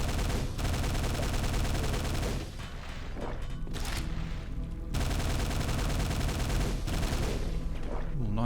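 A grenade explodes in the PC game Quake on the secret level The Underearth, amid a dense, loud barrage of booming blasts and gunfire that rumbles nearly without pause.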